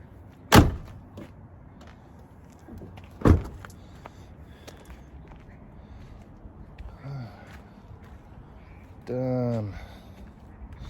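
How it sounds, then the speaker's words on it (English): Gear being loaded into a truck before a fishing trip to the coast: two sharp door slams, some shuffling and knocking, then a rising electric window whine near the end. No one speaks. "got to get everything else loaded up into the truck real quick"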